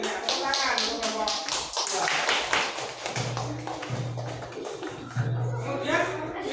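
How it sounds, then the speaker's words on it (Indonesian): A classroom audience claps for a student group's presentation, a dense run of sharp claps heard close alongside overlapping voices. "Tepuk tangan untuk kelompok"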